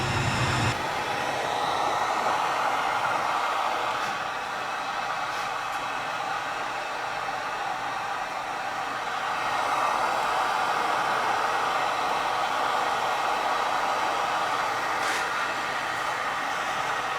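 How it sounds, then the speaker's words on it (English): Heat gun blowing steadily on a red-Loctite-locked bolt on a RZR Pro XP, a loud continuous airy roar running close and unbroken throughout. "Now we're going to heat this thing with a heat gun."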